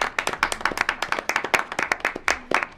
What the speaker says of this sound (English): a quick round of applause for all the work that you guys do